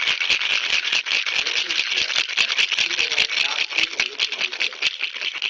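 A cocktail shaker is shaken hard and high, a dense, rapid rattling of ice against the tin that continues steadily and loudly throughout.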